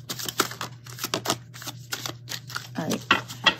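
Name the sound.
shuffling a deck of tarot cards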